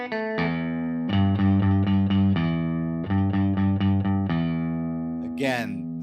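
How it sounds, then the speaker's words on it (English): Electric guitar strung with flatwound strings, playing a 1950s rock and roll style lick with several sustained, ringing chords and plucked notes, close and fairly loud, ending in a brief noisy scrape. "Again, that's the sound of flat wound strings."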